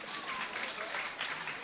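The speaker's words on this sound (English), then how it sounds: "Please give a big round of applause for them." An audience claps in steady, dense applause that holds at an even level throughout, with a bit of voice mixed into the noise.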